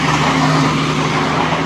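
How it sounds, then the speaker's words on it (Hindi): A truck grinds and crushes through iced-over snow on a mountain road near Sissu, giving a loud, continuous rumbling roar of engine and breaking ice with no talk. "ये देखो कैसे बर्फ का शीशा बना हुआ ना, तो तोड़ते हुए जा रहा ट्रक"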